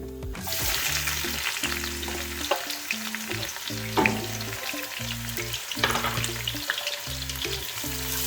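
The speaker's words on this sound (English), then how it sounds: "now all I'm going to do is I'm going to add in all of my onions and let them cook off" Onions frying in a pan for a cauliflower and lamb curry, a busy continuous sizzle with scraping stirs and clatter throughout, close and fairly loud.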